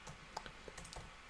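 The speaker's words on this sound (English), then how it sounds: "I'm going to type OpenSea" Quiet, close clicking of computer keyboard keys being typed in a short irregular burst of a handful of light taps.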